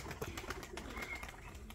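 Soft cooing from a neighbor's pigeon perched on a rooftop, low and fairly faint against a continuous outdoor hiss, with a few brief higher calls mixed in.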